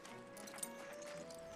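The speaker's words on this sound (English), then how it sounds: "you gotta learn how to drive the horse and buggy" A horse pulling a buggy clops along at a steady walking pace, its hooves faint and distant under low ambient noise.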